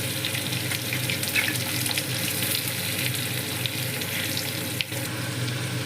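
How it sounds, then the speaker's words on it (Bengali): Chopped onion fries in hot oil in a pan, giving a continuous, close, even sizzle that crackles steadily throughout with no talking. "হালকা করে পেঁয়াজটা ভাজবে, খুব বেশি ভাজার দরকার নেই"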